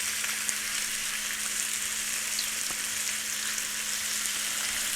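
Chicken and rice fry in a pan with a steady, even sizzle of broadband crackle, close and constant, with no voices over it.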